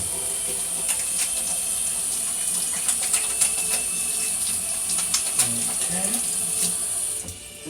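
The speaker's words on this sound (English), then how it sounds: "let me wash my hands first" A tap runs steadily while hands are washed in a home kitchen before chicken thighs are seasoned, giving a continuous close rushing hiss with faint splashes that stops near the end.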